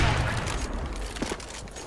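Gunfire in the shooter game CS:GO, a cluster of muffled shots and bangs at moderate volume, with a few sharper reports around the middle.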